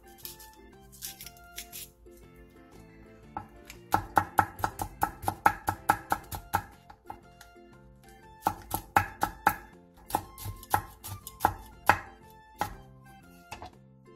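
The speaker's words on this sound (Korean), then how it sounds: "청양고추 4개를 길게 반으로 갈라 얇게 쫑쫑 썰어주세요." Knife thinly slicing four halved Cheongyang chili peppers on a cutting board: quick, evenly spaced chopping taps in two bursts, close and crisp, with no talking.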